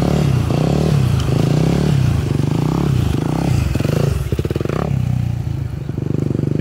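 A motorcycle, apparently a 250, revs hard on a lot, its engine note climbing and dropping in steady repeated surges. The sound is loud and close, with some clatter toward the end.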